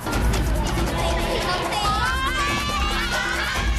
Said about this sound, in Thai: กองเชียร์เขาเชียร์ขอไข่ครับ